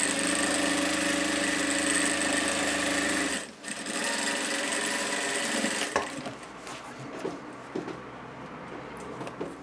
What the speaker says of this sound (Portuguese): pezinho de máquina só pra fazer um detalhe nesse bolso aqui